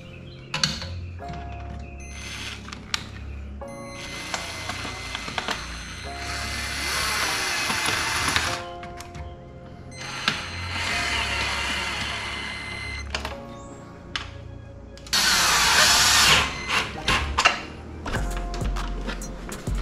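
A power tool drives screws back in while a grill is reinstalled on a Can-Am Maverick X3, with repeated whirring and ratcheting bursts of a few seconds each, close and moderately loud, separated by handling clatter.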